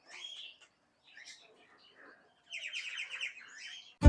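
White peacock in a cage at a rural resort near Gaibandha, giving short chirping calls, then a louder, longer run of harsh, repeated call notes in the second half, close by with no talk.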